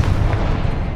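A Confringo blasting-spell explosion in the video game Hogwarts Legacy, a loud, dense, low boom that fills the whole moment and holds steady without trailing off.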